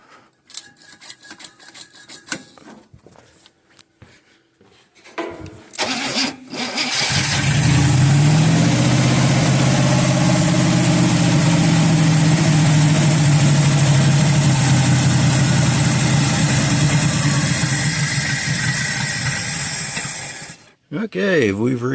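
An old revived engine cranks and fires a few times, then catches and settles into a loud, steady idle lasting about thirteen seconds before cutting out abruptly.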